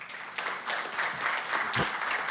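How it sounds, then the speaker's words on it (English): Audience applause for a panel at a football integrity forum, steady clapping from a crowd that holds evenly for a couple of seconds. "I ask a big applause for the panel."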